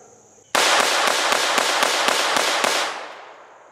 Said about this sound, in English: We were shooting 40 grain standard velocity, which they don't recommend, but it functioned it well.